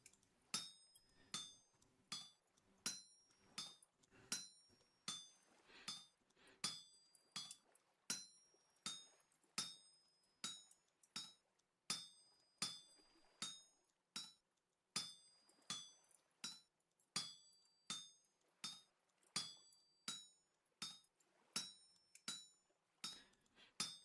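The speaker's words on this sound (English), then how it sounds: "hammer out the ingots manually" Rhythmic metal hammer strikes shaping ingots at an anvil in the video game Vintage Story, dozens of sharp ringing clinks in steady bursts with brief pauses, loud and close with no talk.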